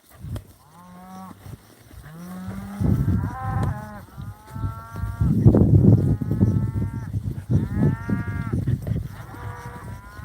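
Calves being gathered for pinkeye treatment moo repeatedly, several bawling calls overlapping at moderate distance over low outdoor rumble and shuffling.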